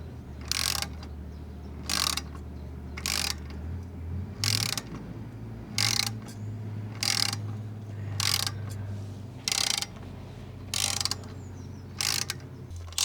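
A tap cuts threads for a lambda sensor boss in a BSA Goldstar 650 exhaust, giving a regular series of about ten short ratcheting clicks roughly a second apart over a low steady hum.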